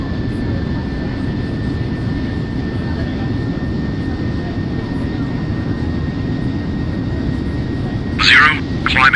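Steady broadband roar of a Delta Boeing 767-300's jet engines in climb, heard from the cabin, constant and loud with a faint tonal whine, and a brief voice near the end.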